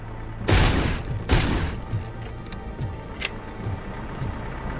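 Gunshots ring out in Robocop Rogue City: two loud, sharp blasts close together, followed by several fainter single shots spaced over a low background rumble.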